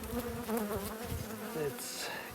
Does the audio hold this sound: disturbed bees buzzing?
yes